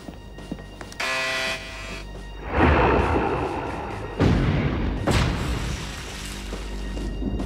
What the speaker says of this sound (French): Les torpilles numéro 1 et 2 ont explosé, commandant.